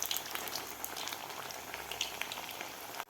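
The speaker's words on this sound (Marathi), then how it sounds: "कुरकुरीत होईपर्यंत हे कोथिंबीर वडी तळून घ्यायची आहे." Kothimbir vadi, crisp coriander fritters, deep frying in hot oil, giving a steady close bubbling and crackling hiss that cuts off abruptly at the end.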